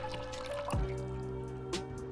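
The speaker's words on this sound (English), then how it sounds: "I'm just gonna go ahead and pour it in." Warm coffee poured into a cup at home, a short steady trickle of liquid with a drip and slosh near the start, close and fairly quiet, with no talking.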